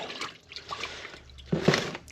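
Bait for fishing is mixed into water in a short wet burst: faint splashes and drips first, then a louder sloshing swirl near the end, close by with no talk.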